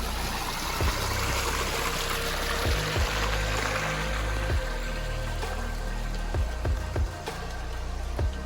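Stream water near Muso no Taki waterfall in Japan flows close by in a continuous rushing, splashing wash with scattered pops and gurgles. It plays alone without talk.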